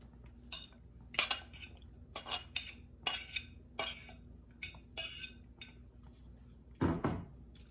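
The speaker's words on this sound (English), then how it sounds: "Now I'm going to add onions, celery, and red potatoes" Onions, celery and red potatoes going into a pot of Guinness beef stew, heard as a series of sharp clinks and clatters from utensils and the pot, ending in a louder thud and scrape.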